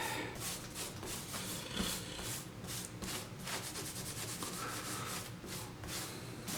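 A cloth rubbing canola oil into a hardwood floor, a close, steady swishing scrub with repeated back-and-forth strokes throughout.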